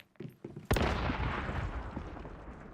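A grenade blast in the survival shooter Once Human goes off close and loud after a few small clicks, its heavy boom rolling into a long rumbling decay.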